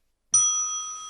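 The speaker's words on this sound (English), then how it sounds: "Bell." A single bright bell ding rings out suddenly and sustains with a clear metallic tone for about a second before cutting off, heard alone.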